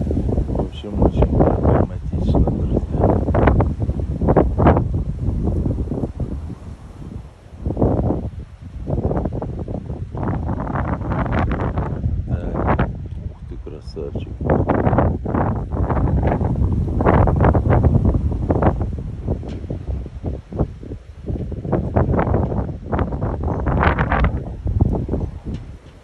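Strong wind buffets the microphone outdoors in heavy, uneven gusts, giving a deep, rumbling roar. The gusts surge and drop throughout the half minute with only brief lulls.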